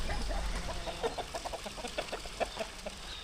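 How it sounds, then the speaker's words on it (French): Large caged roosters cluck in short, uneven bursts over a murky outdoor background, the calls moderately close and irregularly spaced. "Les coqs en cage, ils sont gros, hein."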